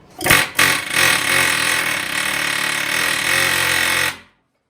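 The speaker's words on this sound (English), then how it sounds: "I will start air hammering in a moment" An air hammer working on a broken Chevrolet Silverado torque converter rattles loudly and continuously for about four seconds after two short opening bursts, then cuts off abruptly.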